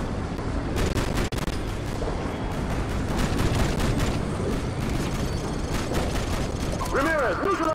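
Dense, continuous gunfire from a Modern Warfare 2 video game firefight, with rapid overlapping shots and bursts that stay loud and close for the whole stretch and never let up.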